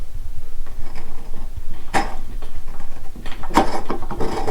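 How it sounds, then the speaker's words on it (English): A light bulb being unscrewed from its socket gives short gritty scraping and creaking twists, with two sharper grinding bursts over a faint background hum and no voices. "first step, removing this bulb"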